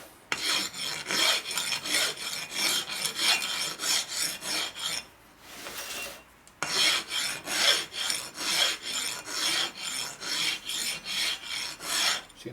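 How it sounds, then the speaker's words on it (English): A hand file rasps across a Harley shovelhead engine case in steady, rhythmic back-and-forth strokes. The filing is close and fairly loud, with a short pause partway through before the strokes resume. "you can actually go like this if you're going down. You're Yeah, filing the surface."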